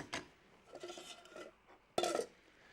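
A thick metal non-stick frying pan is shaken on the stove, giving a few close metallic rattles and scrapes, with one sharper clatter near the end.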